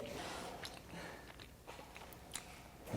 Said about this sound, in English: I haven't even finished chewing.